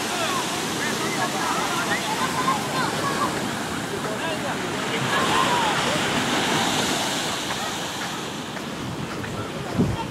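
Surf rolling onto the beach at Boucan Canot on Réunion, a steady loud wash of breaking waves mixed with wind buffeting the microphone, swelling midway, with a voice briefly over it.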